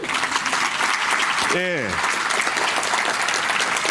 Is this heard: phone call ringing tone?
no